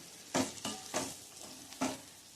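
Okra (bhindi) being sautéed in a pan with a wooden spoon or spatula: three or four distinct scraping stir strokes over a faint sizzle, close and moderately loud, with no talking.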